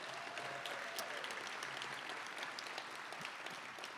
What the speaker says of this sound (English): Let's give Dr. Jantz a round of applause.